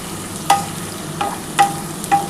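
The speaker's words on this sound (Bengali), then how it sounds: "আর খুব ভালোভাবে কিন্তু চিকেনটা কষাতে হবে" Chicken with salt, turmeric, chilli powder and yogurt frying in a pan for chicken curry with potatoes, a low sizzle punctuated by four distinct scraping stirs, nearby and without speech.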